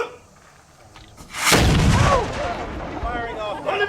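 A historic cannon at Fort Ticonderoga, touched off with a linstock, fires a single loud, booming blast at close range that rolls on into a long fading rumble with crowd noise beneath.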